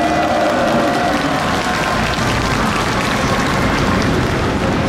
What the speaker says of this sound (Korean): 박 대통령으로 대표되는 우리의 선배 세대들에게 박수를 보냅시다